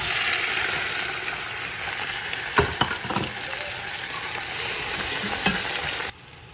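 Onions and tomatoes for chana dal fry in a pan with a steady, close sizzle and a few stirring scrapes, cutting off abruptly near the end.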